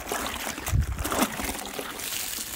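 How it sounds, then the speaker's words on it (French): Water runs and splashes over a car wash mitt during a hand car wash, a short close trickling and splattering with a soft thump early on. "je rince mon gant de lavage"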